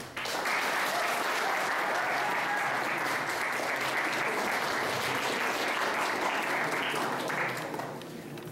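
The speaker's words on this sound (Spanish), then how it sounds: "les pido un fuerte aplauso" A seated audience at a university event gives sustained, loud applause, an even wash of clapping lasting about eight seconds before easing off.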